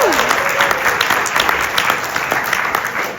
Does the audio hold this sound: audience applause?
yes